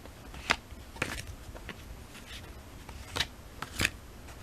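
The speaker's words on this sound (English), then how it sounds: "I'm trying to learn how to shuffle." Tarot cards are shuffled by hand, giving several quiet crisp riffling and slapping bursts spaced irregularly over a soft background.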